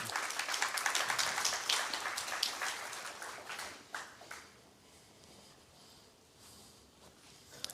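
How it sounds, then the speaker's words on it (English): Audience applause in a church gathering, loud clapping for the first few seconds that thins out and fades to scattered claps and quiet room noise. "Y'all clap them up."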